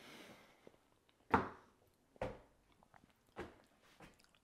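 Close, crunchy bites and chewing while tasting a squash risotto with burrata, three distinct crisp bites spaced about a second apart over quiet background.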